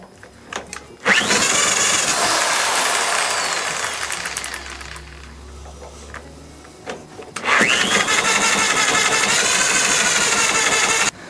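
A 1964 Honda CT200 motorcycle engine fires after a kick start and runs loud and close with a rough, revving idle. It fades and stalls midway, then restarts and keeps running steadily.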